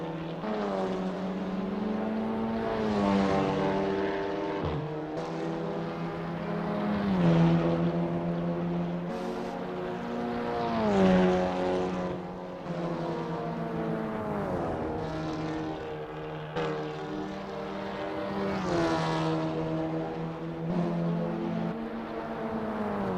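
Audi TT Cup race cars in the Assetto Corsa video game, their engines screaming up through the gears in repeated rising sweeps, each broken by a quick upshift, loud and continuous for the whole stretch.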